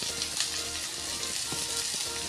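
Curry leaves and finely chopped shallots frying in oil, a dense and steady sizzle with small crackling pops, close and continuous, with no talking.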